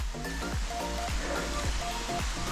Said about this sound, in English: That amazing waterfall.